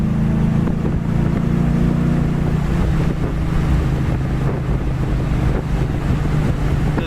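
A 1967 Ford Mustang red convertible cruising down the road at about 55 to 60 mph, a steady low engine drone with constant wind rush buffeting the microphone throughout, no voices.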